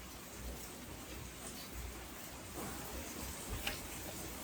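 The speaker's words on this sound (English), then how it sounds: "You might hear some rain in the background." Heavy rain pours steadily outside a garage during a Florida downpour, a constant dense hiss with scattered faint ticks and drips, no one speaking.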